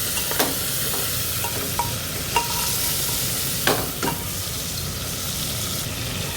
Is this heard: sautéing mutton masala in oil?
yes